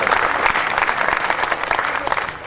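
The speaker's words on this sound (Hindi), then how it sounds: "जोरदार तालियां बजाएं।" A crowd at a Hindi poetry recital in Udaipur claps loudly and densely, a continuous, close roar of applause with no pause.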